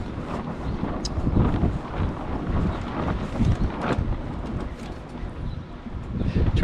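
Gusty wind buffets an outdoor microphone beside an O'Day 240 sailboat during deck hatch work, a steady low rumble with surging peaks throughout and no voices.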